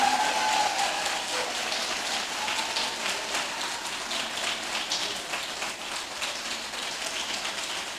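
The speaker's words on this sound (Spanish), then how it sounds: "aplaudo al Señor" Members of the Piedra Viva church congregation applaud together, a steady, dense wash of clapping that continues without a break across the whole stretch, fairly loud and with no talk over it.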